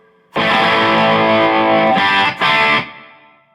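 A loud, distorted electric guitar chord through a Marshall MG100DFX amp with Valhalla reverb in the FX loop rings out, briefly cut twice, then fades with a lingering wash of reverb tail.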